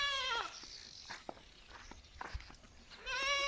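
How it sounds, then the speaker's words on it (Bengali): Goats on a farm in Saudi Arabia give a couple of wavering bleats, one at the start and one at the end, with quieter shuffling and faint activity in between. "হচ্ছে ছাগল"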